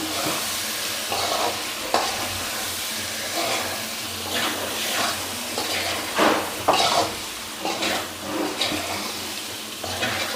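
Spices such as cumin powder get stirred into a sizzling egg and beans masala curry in a pan, with repeated scraping strokes of a spoon against the pan over a steady frying hiss, fairly close and without talk.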